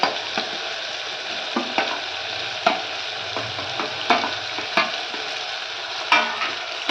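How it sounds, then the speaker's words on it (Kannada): Beans, carrots and potatoes are stirred into biryani masala in a pan for veg donne biryani, with a soft continuous sizzle broken by regular scraping strokes of the spoon, close and alone. "ಸೊ ಎಲ್ಲ ಸೇರಿಸ್ಕೊಂಡು ಚೆನ್ನಾಗಿ ಮಿಕ್ಸ್ ಮಾಡ್ಕೋಬೇಕು"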